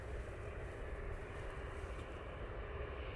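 An Icelandair Boeing 787-9 Dreamliner lands at Manchester Airport, a continuous, even jet roar heard from a distance at moderate, unchanging loudness with no talk over it.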